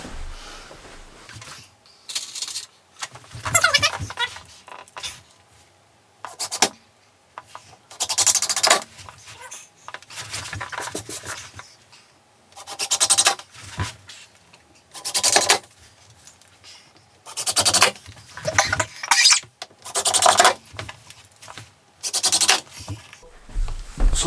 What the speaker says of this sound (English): Now it's just a case of screwing it in.